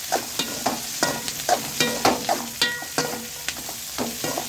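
Pirandai chutney with tamarind sautés in a pan, oil sizzling steadily beneath the rhythmic scrape and clack of a spoon stirring repeatedly at close range, no voices.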